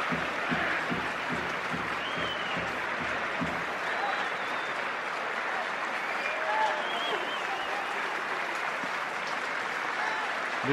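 Stadium crowd at a AEL vs PAOK football match applauding a substituted player as he leaves the pitch, steady broad clapping filling the whole stretch with murmuring crowd noise.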